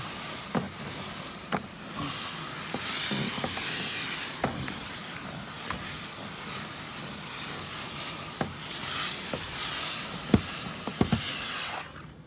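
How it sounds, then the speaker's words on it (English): Steady hiss of a steam cleaner cleaning a Toyota Matrix car interior for mold removal, with intermittent clicks and bumps, close by, running continuously without talk. "the next step that we do in the mold treatment process is we steam clean the entire car"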